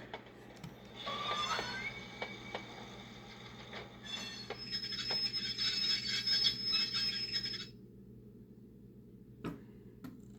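An Athearn Genesis Chessie model caboose's Soundtraxx sound decoder plays brakes squealing with a bright, sustained screech over rumbling running noise, then cut off, leaving quiet with one brief click.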